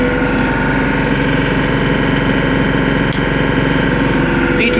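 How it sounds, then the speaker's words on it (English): A TYM 394HC compact tractor runs with its PTO engaged to drive a Blizzard B54 rear three-point snowblower, giving a loud, constant mechanical drone with a steady engine hum and no talk. "Okay, I'm going to now engage PTO. That is now on."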